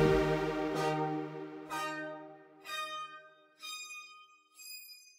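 A DUNE 3 synth preset with a short 0.2 second reverb time plays five bright, bell-like notes in succession, each decaying quickly and leaving dry gaps between them, heard alone.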